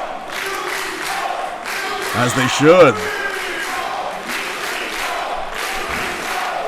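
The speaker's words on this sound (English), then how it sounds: "Crowd getting vocal for Lufisto" A wrestling crowd at a women's tag match roars for Lufisto in loud swelling waves, with a commentator's voice rising over the noise partway through.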